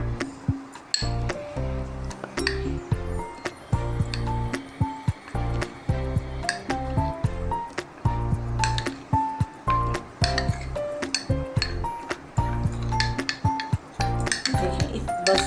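A spoon clinks and scrapes against a bowl while cornflour is stirred with a little water, producing a steady, quiet run of sharp taps and soft wet squishes.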